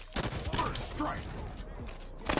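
An assault rifle fires in Halo 5 multiplayer, in a rapid string of sharp, close bursts mixed with other game noise and a voice.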